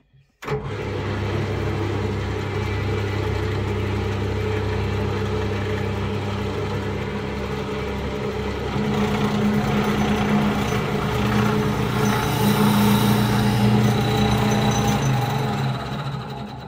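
A drill fitted with a 12mm spade bit bores out the centre of a custom brickie's trowel, giving a steady, loud motor whine that holds throughout and strengthens partway as the bit bites in.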